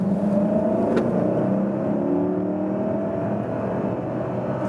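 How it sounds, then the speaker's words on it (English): A Mercedes-Benz GLS SUV accelerates hard from 30 mph, its engine drone climbing steadily in pitch under a constant rush of road and wind noise, heard from inside the cabin. "I'll go down to 30 miles and then hammer it."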